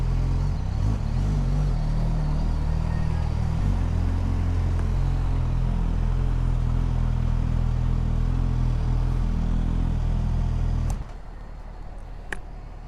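A Suzuki GSX-S1000-GX motorcycle runs on the road with a steady, loud engine drone and wind roar for about eleven seconds, then the sound drops abruptly to a quieter low rumble with a couple of brief clicks.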